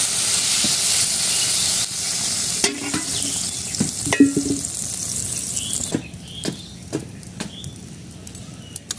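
Fish curry with potato and eggplant in a pan, a loud steady sizzle and hiss that then eases into quieter bubbling, with occasional stirring clinks and scrapes close by, no voices.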